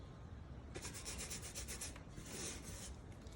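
Pastel colour is rubbed into paper with quick repeated back-and-forth strokes, a soft rhythmic scratchy rasp that starts after a pause and continues steadily, close and fairly quiet.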